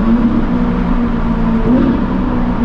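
A Ferrari engine gives a loud, steady drone with a high, buzzing tone, slightly rising and falling as it is held at high revs.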